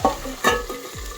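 Drumsticks, onions and dried chillies fry in a pan and a spoon stirs them. Close sizzling runs under two or three sharp scraping strokes against the pan.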